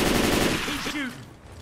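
Gunfire in the zombie shooter Left 4 Dead 2, a loud dense burst of rapid automatic shots at the start that gives way to fainter game sounds and tonal effects.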